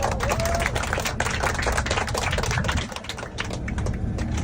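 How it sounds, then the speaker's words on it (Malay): Audience applause at a speech event for a company founder in Bangkok, dense clapping sustained throughout with a slight dip near the end, with some crowd noise mixed in. "Tepuk tangan lagi dong yang meriah."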